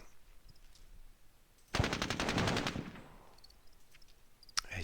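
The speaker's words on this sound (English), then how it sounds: "This unit though could lay down some suppression fire here, and let all these guys move up instead." A loud burst of machine-gun suppression fire in the Squad Battles Tour of Duty wargame, rapid shots for about a second that fade into a trailing rumble, with quiet before and after.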